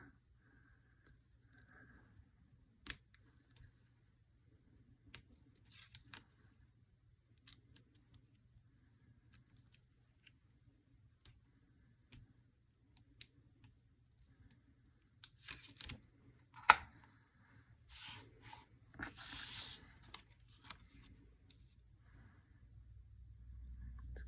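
Adhesive foam pieces peeled off their backing while a layered Easter egg card is assembled, heard as faint scattered clicks and crinkly tearing sounds spread over about twenty seconds, with a busier cluster of rustles near the end.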